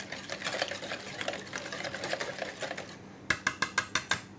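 A whisk or spoon stirring a cream and egg yolk mixture in a saucepan, soft rhythmic scraping strokes that give way to a quick series of sharp taps against the pan rim.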